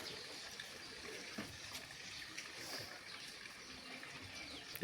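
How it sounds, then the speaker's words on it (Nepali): Steady rain falls on a cold Saturday as a dense, even hiss of drops with occasional louder splashes, continuous and without talk. "आज यस्तो पानी परिरहेको छ।"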